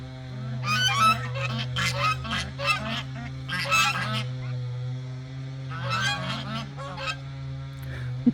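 Several geese beneath a wooden goose house honk repeatedly in loud, overlapping bursts close by, with short pauses between calls and a steady low hum running underneath throughout.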